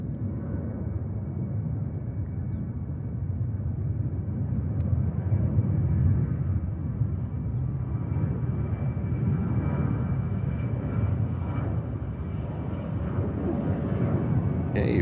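A fixed-wing airliner at JFK airport in New York produces a continuous broad low jet roar that swells slightly midway and holds steady, heard from a distance with no voices.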